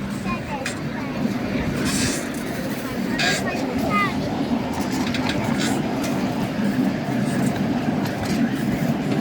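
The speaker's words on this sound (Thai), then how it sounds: "รถไฟไม่มีหลังคา" Steady rumble of a moving open-roofed train with wheel squeals and clacks, voices chattering faintly underneath throughout, on a ride to a garden in Kalasin, Thailand.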